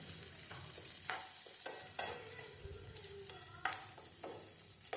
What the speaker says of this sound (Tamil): கேப்சிகமும் ஆனியனும் நல்லா வெந்து வரட்டும். ஒரு 2 நிமிஷத்துக்கு நல்லா ஃப்ரை பண்ணி விடுங்க.